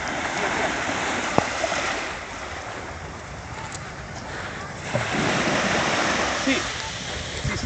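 Cold winter sea water at Barceloneta beach surges and splashes around someone wading in, a loud continuous wash of surf with brief voice sounds over it.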